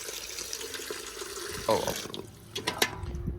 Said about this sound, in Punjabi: ਪਾਣੀ ਪਾ ਦੀ ਇਹਨਾਂ ਨੂੰ ਤਾਜ਼ਾ ਤਾਜ਼ਾ